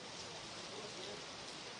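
Heavy rain falling steadily across Himachal Pradesh during flooding, a dense continuous hiss with no breaks, close and fairly loud.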